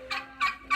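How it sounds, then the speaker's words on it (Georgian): A rooster outdoors on a freezing cold day lets out three short, harsh, rasping calls in quick succession, close by with no voices. "შენ საიდან მოხვედი, მამალო?"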